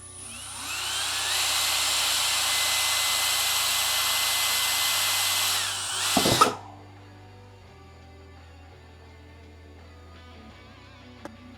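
A Skil 12V drill with an eighth-inch bit whines loudly and steadily through a hole for about six seconds, then stops abruptly with a brief clatter, leaving quiet background.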